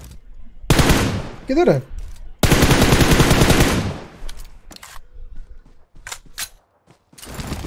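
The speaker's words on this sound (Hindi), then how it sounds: "सबसे मजे की बात उसकी मशीन गन है ना, वो रिलोड नहीं है।" Machine gun fire from the PUBG Mobile video game comes in two long, loud sustained bursts with shorter shots scattered after, while a player speaks briefly between bursts.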